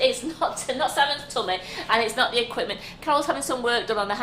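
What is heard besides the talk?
No everyday noise stands out behind the speech.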